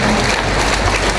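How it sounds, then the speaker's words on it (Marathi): A brief burst of steady crowd clapping at a book launch event in Mandangad, a dense, even patter of many hands with no talking. "त्यांच्यासाठी एकदा अशाच टाळ्या वाजवायच्या जोरात जोरात"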